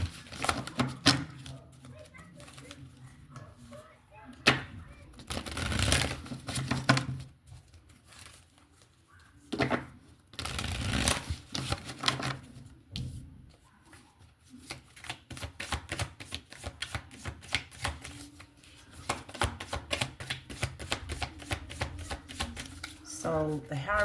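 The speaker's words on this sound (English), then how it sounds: "I'm going to pull from my I've Got to Testify Oracle just so I can clarify a couple of these" Oracle cards being shuffled and handled at close range, bursts of riffling and soft slapping patter repeating in clusters, with brief pauses between rounds.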